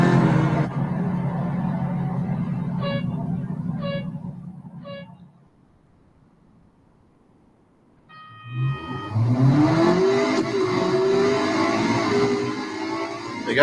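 Porsche engine in a Real Racing 3 drag race: after a few electronic beeps and a quiet pause, the engine roars up loudly, revving and climbing through gear changes as the car launches and accelerates.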